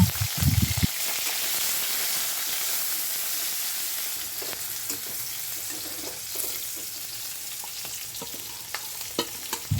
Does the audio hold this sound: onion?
yes